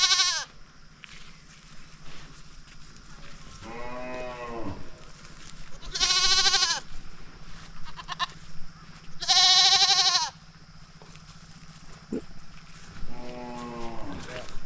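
Several loud, wavering bleats from goats on a farm ring out at irregular intervals, some high-pitched and some lower, with quiet stretches of low background hum between calls.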